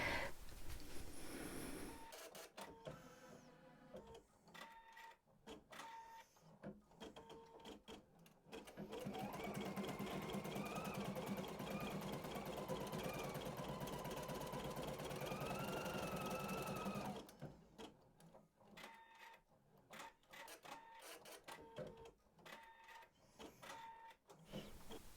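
Embroidery machine stitching an appliqué design in shades of green thread, rapid rhythmic needle clatter with a sustained whirring stretch in the middle, close and moderately quiet, no voices.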